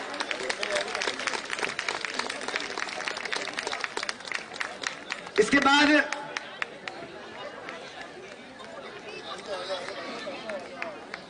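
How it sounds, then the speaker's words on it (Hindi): An audience at a Jhuggi Samman Yatra political gathering claps for the state general secretary, a steady patter of applause mixed with crowd chatter and babble, with a louder burst near the middle. "एक बार जोरदार ताली बजा के"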